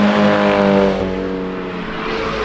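A small GTI car drifts on a track, its engine revving hard and loud with strong harmonic tone, then easing back over about two seconds, with a faint tire hiss beneath.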